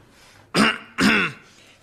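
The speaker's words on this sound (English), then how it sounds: "Just a cough." Two sharp throat-clearing coughs in quick succession, loud and close against a quiet room, each about a quarter second long.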